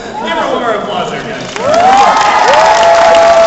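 A convention panel audience cheers and whoops, starting as scattered crowd noise, then swelling midway into loud, high shouts and cheering with some clapping, close and energetic.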